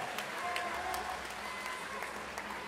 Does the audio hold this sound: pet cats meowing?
no